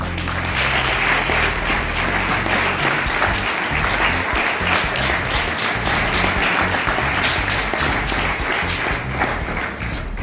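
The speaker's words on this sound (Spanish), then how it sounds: "Otro aplauso bien fuerte" Loud, sustained applause fills a hall during a neighborhood festival presentation of honorary maids in Huesca, a thick continuous roar of many hands clapping close and strong throughout.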